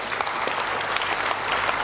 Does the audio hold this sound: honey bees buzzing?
no